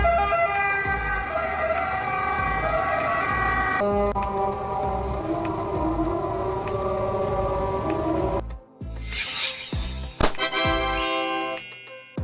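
An ambulance siren, from a Fiat Ducato or Mercedes-Benz Vito, wails loudly in sustained two-tone cycles, then shifts into rapid rising yelps toward the end, with traffic rumble underneath.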